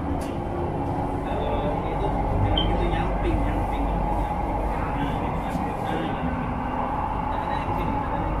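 Steady, loud rumble of an LRT Jabodebek light-rail train running, heard from inside the car as a continuous droning roll with faint voices in the background.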